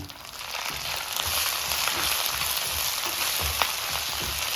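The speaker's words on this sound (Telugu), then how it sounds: "ఇలా ఫ్రై చేసుకుంటూ ఉండాలండి తిప్పుకుంటా అంతా ఇట్లా గెంటితోటి కలబెడుతూ ఉండాలి" Drumstick leaves fry in hot oil with a dense, continuous sizzle and faint scraping as a spatula turns them, close up and steady throughout, no voices.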